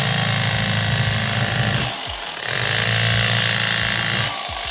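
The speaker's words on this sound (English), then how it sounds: "take the end of my fillet knife like this and actually start the cut like this" Electric fillet knife buzzing loudly as it cuts through a crappie, a harsh motor drone with a brief dip in the middle as the blade eases, then resumes at full pitch, close up and without speech.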